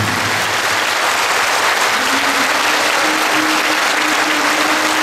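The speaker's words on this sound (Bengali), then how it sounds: "আপনাদের এই সাগর করতালির মধ্যে" A large village audience gathered for a felicitation ceremony applauds loudly and continuously, a dense wash of many hands clapping close and full throughout, with a faint voice underneath.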